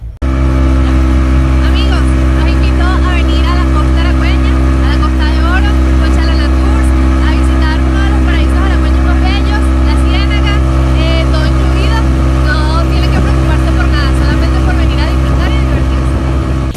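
Loud, steady drone of a motorboat (lancha) engine on a transfer ride near La Ciénaga, running continuously throughout, with voices talking over it.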